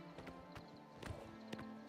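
Steady clip-clop of horse hooves at a brisk pace, close and fairly quiet, with a faint whinny and a low ambient hum underneath; a horse in the video game The Elder Scrolls IV: Oblivion Remastered.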